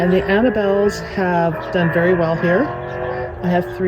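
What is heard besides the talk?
No everyday noises stand out.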